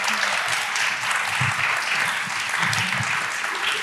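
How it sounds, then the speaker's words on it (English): Sustained audience applause for a panel of speakers at a talk on Indigenous knowledge and climate change, dense and steady clapping throughout with a faint voice underneath. "Can we give a round of applause to our panelists?"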